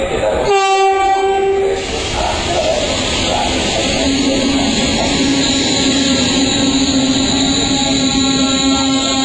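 A loud train horn sounds briefly at the start, then a passenger train in Sicily rumbles and rolls on steadily with a low hum and rhythmic track noise, close by.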